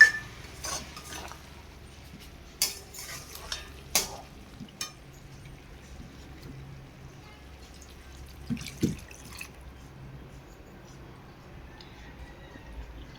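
Spoon stirring mutton curry in a metal pan, sparse close scrapes and clinks against the pan spread over a quiet stretch, with faint background sizzle and hum.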